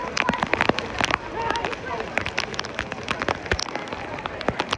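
Rain patters and splashes during a violent thunderstorm at an Orlando waterpark, with irregular close drops and bursts over a steady wet hiss, while people talk nearby.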